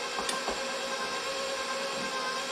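An electric mixer whirs steadily while mixing banana cake batter made with salted butter, a constant mid-level motor hum with faint bumps as flour goes in, no voices.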